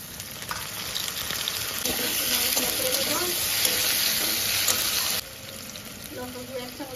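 Ginger and garlic frying in a pan with chopped onion for ghugni, a dense close sizzle with stirring that swells for a few seconds and then drops to a quieter crackle.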